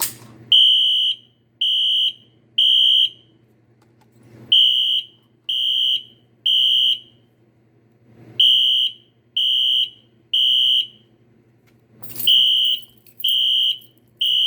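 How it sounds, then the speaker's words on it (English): A fire alarm wired to a pull station with no control panel sounds in repeated groups of three loud, piercing electronic beeps separated by short pauses, alone and close. "that's how you wire a fire alarm to a pull station"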